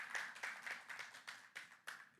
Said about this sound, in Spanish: Le podemos dar un fuerte aplauso al Señor porque Él es grande,